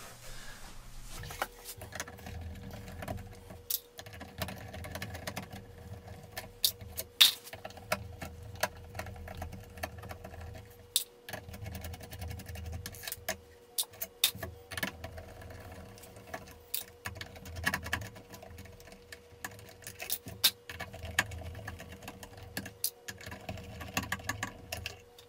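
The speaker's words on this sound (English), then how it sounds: "So I put a little tiny tip on my ratcheting screwdriver here. Let's start by backing all those out." A ratcheting screwdriver with a tiny tip backs out the small tuner screws on a Guild F-250E acoustic guitar, giving faint, rapid bursts of ratchet clicks with short pauses, close but quiet, and no talking.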